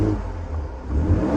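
A Ford Ranger Raptor with its exhaust set to sport mode revs briefly, a deep rumbling engine swell rising near the end of the short burst.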